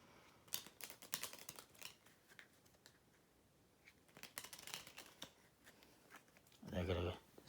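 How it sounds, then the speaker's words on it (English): Playing cards for the Bottle Imp card game are dealt out quickly, a faint run of soft flicks and snaps, with a louder rustling burst near the end. "So each player, we're gonna deal out the cards here."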